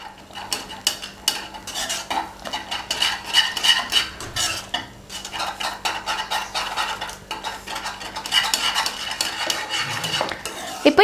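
Metal utensil scraping and clinking against a pot while stirring a butterscotch chocobar ice cream mixture, in steady, busy strokes, close up, with no talking.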